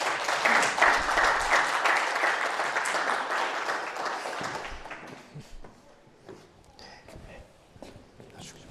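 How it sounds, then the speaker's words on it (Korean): An audience at a university lecture forum claps loudly in welcome for a visiting professor, dense sustained applause that thins out and fades into scattered claps and footsteps as it dies away. "큰 박수로 이 자리에 모시겠습니다"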